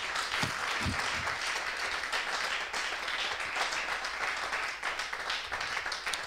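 A church congregation applauds loudly and without a break during a worship service, with dense, steady clapping and faint voices mixed in.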